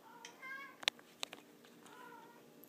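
An indoor house cat meows a few times, short and fairly close, with faint background sounds between the calls.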